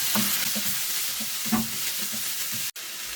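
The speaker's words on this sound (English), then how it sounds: "Add the chopped flips and tentacles. Mix everything well." Squid and tomato sizzle in a frying pan under a steady hiss, with rhythmic soft scrapes of a spoon stirring, then a brief sudden cut.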